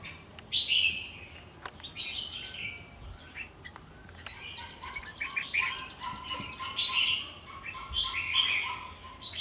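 A red-whiskered bulbul chirps in a cage, bright short calls and a rapid trilling phrase repeating against a faint steady hum, moderately close with no talk.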